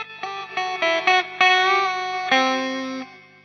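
A dirty bitcrusher pedal set to delay and reverb, with the delay or reverb time constantly shifting, plays a string of distorted, gritty tones. Each note repeats and smears into the next before the sound swells into a long, warbling tail.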